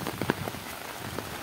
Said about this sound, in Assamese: আৰু এইফালে পূৰা বৰষুণ দি আছে।